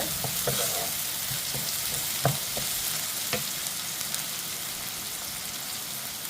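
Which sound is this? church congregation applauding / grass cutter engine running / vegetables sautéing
vegetables sautéing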